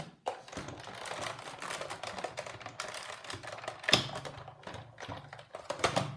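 Card stock in an embossing folder with a standard cutting plate cranked through a Big Shot die-cutting machine, a continuous rapid clicking and ratcheting close by, with a sharper clack near the middle.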